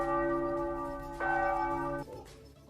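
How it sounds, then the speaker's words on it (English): A bell is struck by its clapper twice, each stroke giving a bright, ringing tone with sustained overtones. The second strike cuts the first ring short, and its hum fades quickly after about two seconds. "the sound of the bell, induced by"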